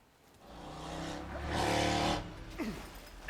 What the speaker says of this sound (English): Ignore the motorcycles in the background of my mic because my window's open.